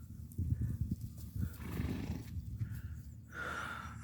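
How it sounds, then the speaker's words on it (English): Arabian horses in a farm stable snort, shuffle and clop nearby, then one lets out a clear whinny toward the end over a low rustling background. "all the rest of them are Arabian horses"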